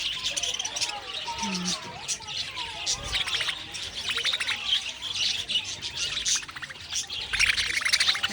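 Small birds chirp and squawk busily as they are fed from an open palm. The tweets come close and overlapping, with bursts of bright calls throughout, and a person speaks intermittently underneath.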